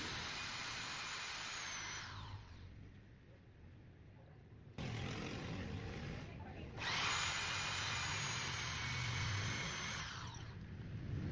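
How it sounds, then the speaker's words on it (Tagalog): Electric drill boring a hole into cement to set a concrete nail, a high whining motor grind that runs, stops briefly, then starts again loud and steady. "binutasan ko na yung simento na pagkakabitan ko ng concrete nail"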